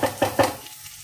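Onions frying in oil in a pan, with a couple of stirring scrapes in the first half followed by a soft, steady sizzle.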